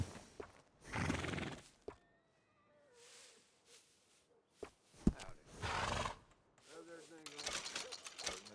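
Horse neighing and whinnying in the Red Dead Redemption 2 video game, with several loud whinny bursts and clip-clopping hooves between them, and a voice talking in places.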